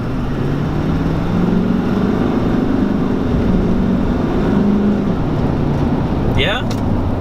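A heavy 3/4-ton turbocharged truck accelerates under throttle, a loud continuous engine drone with a rising tone as the turbos spool up, steady throughout.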